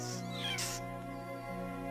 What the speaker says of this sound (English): who could resist an adorable little leopard cub like you?